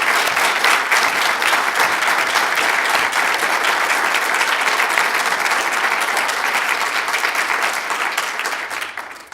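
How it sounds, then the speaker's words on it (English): Loud, sustained applause from a large assembly audience at an agreement signing, a dense roar of clapping that holds steady for several seconds before beginning to fade at the end. "I think that deserves a round of applause right there"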